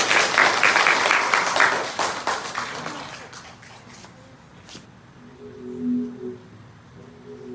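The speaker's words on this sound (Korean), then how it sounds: "박수로 환영합니다." A church congregation marking a 70th-anniversary and harvest thanksgiving service breaks into dense, loud applause that fades after about three seconds into a quieter hall with a low tone.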